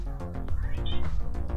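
A pet cat meows over a loud background hum during a toy unboxing, with short, close meow calls partly masked by the steady low noise.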